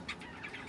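Pet birds in a home setting chirp faintly in short, scattered tweets over a soft background hiss, with a slightly louder call at the very end.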